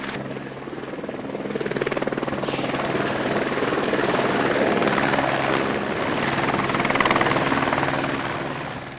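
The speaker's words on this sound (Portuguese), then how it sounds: "Tudo para que o helicóptero pudesse pousar e agora levantar voo, seguir viagem até o aeroporto de Londrina." A medical transport helicopter lifts off near Londrina, Brazil, its rotor and turbine a loud, steady, close roar that swells slightly as it climbs, with no talk over it.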